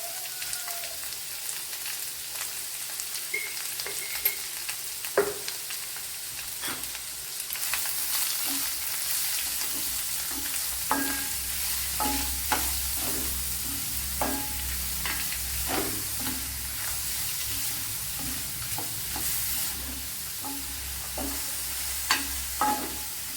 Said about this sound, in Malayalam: ഈ സവാള നല്ല പോലെ വഴറ്റിയെടുക്കണം.